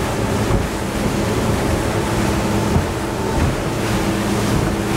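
A 2021 Nimbus T9X boat crosses choppy waves, its hull slapping and pounding through the surf over steady engine drone and loud wind buffeting the microphone, with no talking.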